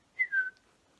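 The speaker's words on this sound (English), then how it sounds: "Can you whistle?" A person gives a single short whistle that is clear and close, a quick two-part note that slides slightly down in pitch before silence.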